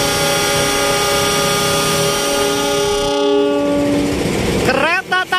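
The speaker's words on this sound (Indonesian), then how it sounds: "Kereta Taksaka berangkat dari stasiun Gambir." Taksaka passenger train pulling out of Gambir station, its horn sounding as a long sustained tone before the engine and wheels rumble up, with a brief voice near the end.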